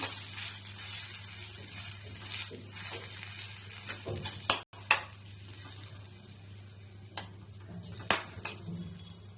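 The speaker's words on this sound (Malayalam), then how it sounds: "എന്നിട്ട് നന്നായിട്ടൊന്ന് ഇളക്കണം." Salt stirred into a bread mixture, heard as soft wet mixing and scraping sounds with a few sharp clicks of a spoon against the bowl, close and fairly quiet, with no one speaking.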